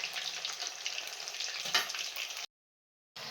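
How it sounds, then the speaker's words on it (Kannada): Homemade fish kebabs fry in hot oil with a dense, crackling sizzle close up that cuts off abruptly and then resumes. "ಇದೇ ರೀತಿ ನಾನು ಎಲ್ಲವನ್ನು ಹಾಕ್ಕೊಂಡು ಫ್ರೈ ಮಾಡ್ಕೊಳ್ತಾ ಇದ್ದೀನಿ."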